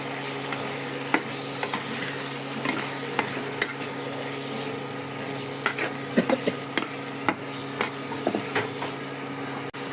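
Tomatoes and spices fry in a pan for a Bengali shing fish curry, a soft, steady sizzle punctuated by irregular clicks and scrapes of a spatula stirring.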